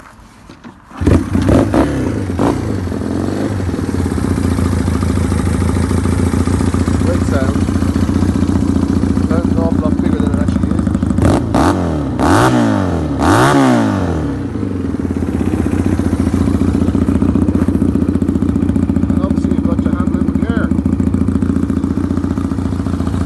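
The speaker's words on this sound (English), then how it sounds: "I'll just kick start it there just to show you how easy it is." A 1972 Honda CB175 cafe racer is kick-started: a few clatters and thumps, then the engine catches and idles loudly and steadily, with several sharp revs rising and falling midway before settling back to a steady running note.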